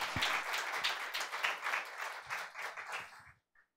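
A church congregation at a Sunday service claps steadily for over three seconds, a dense, even roar of many hands, heard fairly faintly and without talk before it stops abruptly.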